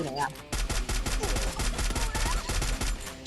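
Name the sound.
gunfire in the video game Free Fire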